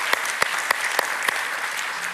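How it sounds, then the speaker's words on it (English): Audience applause at a university's academic year opening ceremony, a steady wash of many hands clapping with a few sharper individual claps standing out near the front. "So a round of applause as well for ASML and Frank."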